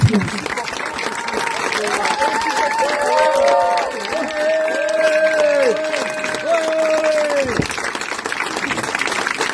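A crowd applauds steadily through a closing speech at PPB Lux 2025, with dense clapping running the whole time under tonal, sung or voiced sounds that rise and fall.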